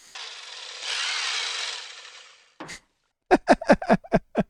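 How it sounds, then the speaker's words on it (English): Electric meat trimmer from the Rocky Horror Picture Show whirs in a loud close burst for about two seconds, then short separate clattering hits follow. "Threatened him with a meat trimmer."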